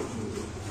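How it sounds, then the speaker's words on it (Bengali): Young fancy pigeons coo softly and steadily in a loft, a low continuous murmur of several birds close by, with no talk. "আমি আগে দেখাই কবুতর গুলো একদম ইয়াং বার্ড"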